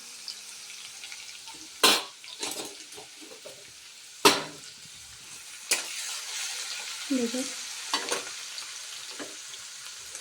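Puffed rice chivda, Sangli-Kolhapur style bhadang, roasting in a pan while being stirred, with a soft continuous dry sizzle broken by several sharp scrapes and clanks of the spatula against the pan.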